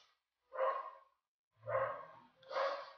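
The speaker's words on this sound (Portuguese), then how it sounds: "Minha cachorra está latindo." A dog barks indoors, giving three separate barks spread over a few seconds, moderately loud with short pauses between them and no talk.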